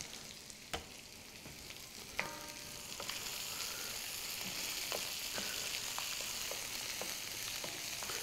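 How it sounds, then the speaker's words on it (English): Paella mixta ingredients with crab juices sizzle and fry steadily in a pan while being stirred, a constant close hiss broken by occasional scraping clicks of the spoon against the pan. "I'm just stirring the pan around a little bit to distribute the heat, make sure everything is starting to mingle together"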